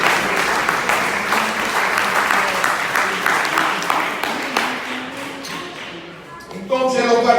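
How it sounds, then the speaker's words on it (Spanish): A church congregation claps loudly together in a dense, continuous round of applause that fades briefly near the end before rising again. "Un aplauso fuerte para el Señor Jesús."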